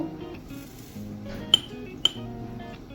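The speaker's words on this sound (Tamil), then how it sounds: "இப்போது சோயா மிக்ஸுக்கு போட்டு எல்லாத்தையும் பிரட்டுவோம்" A spoon clinks twice, bright and sharp, against a bowl while soya chunks are mixed with turmeric, salt, curd and chilli powder for soya biryani, with soft stirring scrapes between the two clinks.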